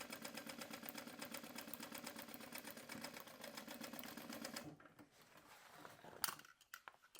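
A sewing machine stitches along a zipper edge on a rolltop backpack, running with a fast even rhythm for several seconds before stopping; a few quiet handling sounds follow.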